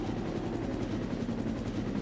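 A helicopter comes in to land in the Resident Evil video game, its rotor thudding in a rapid, steady pulse over a dense low engine roar, loud and continuous.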